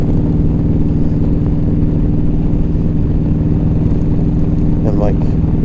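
A 2015 Yamaha V Star 1300 Deluxe SE rides at night, its low, steady engine rumble running throughout under a rider's voice.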